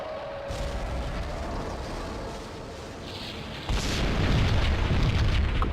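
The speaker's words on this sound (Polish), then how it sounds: "W pobliskim budynku wybuchła kolejna bomba." A bomb goes off in a nearby building in Max Payne, a sustained heavy rumbling blast that swells louder toward the end, with no talk over it.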